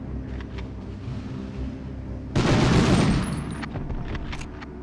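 Sustained burst of machine gun fire in the World War II shooter Medal of Honor, during an escape from a V2 rocket plant, loud and dense for under a second before fading into scattered game sounds.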